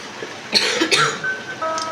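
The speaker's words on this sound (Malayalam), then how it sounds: "ചുമയാണ്." A couple of sharp coughs close by, followed by a faint throat noise over quiet background hum.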